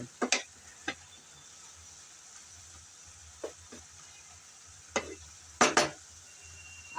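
Radish leaves stir-fried in an open, uncovered pan, giving a soft, faint sizzle broken by a few sharp scrapes and clatters of stirring, with no talking.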